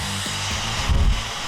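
A Remington One hair dryer running without an attachment while drying hair, a loud close steady whoosh of blown air with a low droning motor, briefly rumbling louder as the airflow shifts.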